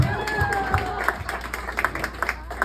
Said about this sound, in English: Clap for these people